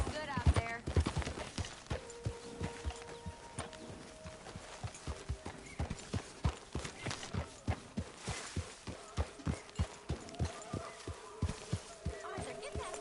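Steady clip-clop of horse hooves walking close by in a PS4 video game, with a brief whinny near the start and faint voices in the background.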